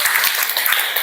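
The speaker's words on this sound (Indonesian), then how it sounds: "Tepuk tangan untuk kalian semua, luar biasa." Loud, close applause from a youth audience at an Islamic study gathering, a brief burst of many hands clapping densely and evenly for about a second.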